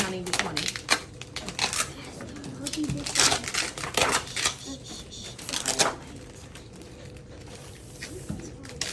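Small items are scooped and dropped back into a Ziploc bag in a classroom group activity, with a busy run of clicking, rustling and clattering while children talk in the background.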